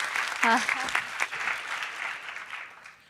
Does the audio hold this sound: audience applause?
yes